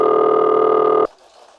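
A telephone ringing tone on the line in a stage performance of the radio play Sorry, Wrong Number: a loud, steady electronic tone for about a second that cuts off abruptly into faint background hiss.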